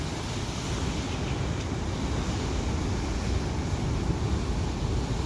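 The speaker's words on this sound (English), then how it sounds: "These are the big waves at Clovelly." Big ocean waves at Clovelly roll in as a steady, broad wash of surf, continuous and fairly distant, with some wind noise and no voices.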